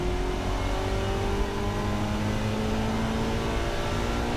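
A race car on a qualifying lap of the Brands Hatch GP circuit, heard from onboard as a steady, loud engine drone with rising and falling harmonic tones under continuous road and wind noise.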